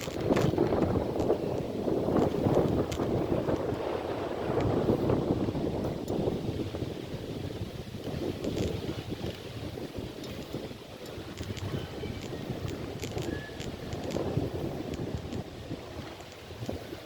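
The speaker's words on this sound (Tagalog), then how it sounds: "Mahangin." Strong wind buffets the microphone aboard a boat in gusty, rumbling bursts, loud and continuous with faint background noise and no talking.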